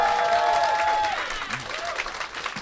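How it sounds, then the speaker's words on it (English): Crowd at the Bugglebots 2018 robot-fighting grand final gives a loud round of applause after a fight, dense clapping with a few whoops, then fading slightly toward the end. "can we have a massive round of applause for what an amazing fight that was?"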